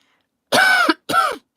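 Two short, loud coughs close to the microphone, the first longer and rougher, the second briefer after a small pause, with no talking.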